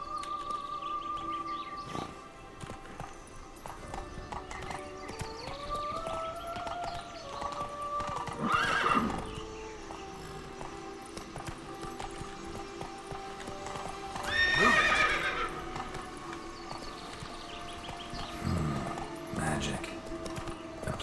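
Horse hooves clip-clop steadily at a gallop in a fantasy video game while a horse whinnies loudly twice, with game music and occasional bird chirps underneath and a voice speaking briefly.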